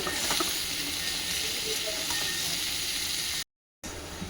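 Sliced potatoes sizzle and hiss steadily in hot oil in a pan, a close, continuous frying noise with no talking, cut by a brief silent gap near the end.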